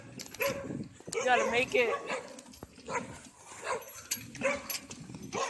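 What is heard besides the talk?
dogs barking behind a fence while chasing a bike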